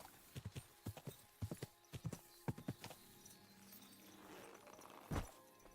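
A horse's hooves clip-clop at a walking pace in the video game Kingdom, a steady run of sharp close steps, then a low thump near the end.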